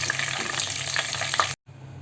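Steady crackling sizzle of chicken deep-frying in hot oil until golden brown, close and continuous, cutting out briefly near the end before resuming.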